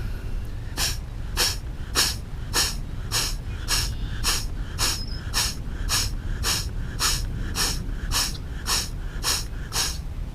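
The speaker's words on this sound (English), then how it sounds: "So again, this one is the boxer breath." Rhythmic boxer breath exercise: about twenty sharp, evenly spaced nasal exhalations in quick succession, close and loud over a steady low background rumble, with no talking.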